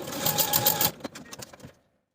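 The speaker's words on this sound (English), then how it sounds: "overlap the ends of the elastic by about 1/2 inch and zigzag back and forth to secure" A sewing machine runs a short burst of zigzag stitching to join overlapped elastic ends for a Style Arc Shannon jumpsuit, then halts, followed by a few light clicks and handling taps before silence.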